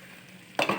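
Chicken curry is stirred in a pan after coriander leaves are sprinkled over it: after a quiet moment, two quick scraping stirs sound close up over a soft sizzle.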